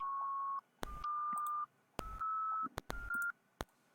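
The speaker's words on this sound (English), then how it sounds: "This is how we can play the beep sound using the winsound module." Computer beeps generated by a Python script using the winsound module: four steady, clear tones of about half a second each, separated by short gaps and sharp clicks, with no talk.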